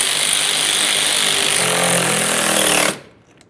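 Power tool snugging a 10mm mounting bolt on a windshield washer reservoir of a 2007-2013 Chevrolet Silverado 1500: a loud, continuous buzzing whir for about three seconds that stops abruptly, leaving near quiet.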